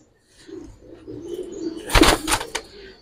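A Pakistani high flyer pigeon released from a loft, a short burst of loud wing flaps near the end after soft cooing at the start.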